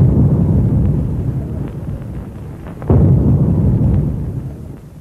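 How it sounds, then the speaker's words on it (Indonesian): A royal cannon salute fired at a Brunei coronation ceremony: a distant, muffled boom rolls out over a steady low rumble, with one sharper blast striking near the middle. "Dan kepada segenap lapisan rakyat diumumkan dengan tembakan meriam 19"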